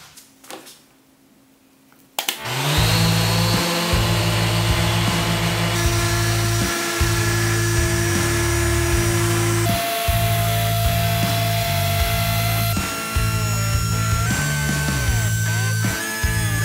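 Power sanding of cured epoxy resin with 100 grit sandpaper, a loud, sustained whirring grind that starts abruptly after a quiet moment and pulses as the sander is moved across the surface.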